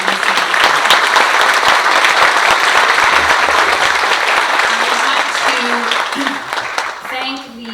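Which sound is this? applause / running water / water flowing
applause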